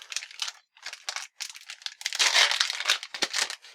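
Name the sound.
ripping open Kamen Rider Eyecon packaging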